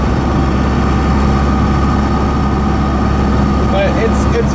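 A Cummins 4BT diesel engine swapped into a Ford F150 runs steadily and loudly with a deep low rumble, with a faint turbo whistle from the intake rising briefly near the end.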